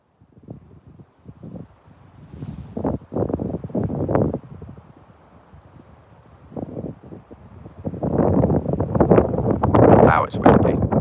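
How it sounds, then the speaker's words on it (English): Wind gusts through trees in a forest by a castle, with loud, buffeting bursts that swell and fade and hit the microphone hard. Voices talk intermittently through the gusts. "it's windy."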